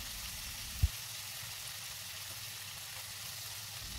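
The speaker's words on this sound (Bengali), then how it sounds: "মাছের মাথাগুলোকে একদম ক্রিস্পি করে ভেজে নিতে হবে" Quiet, steady sizzle of hilsa fish heads deep frying in oil until crispy, a soft continuous crackle with one small knock near the start.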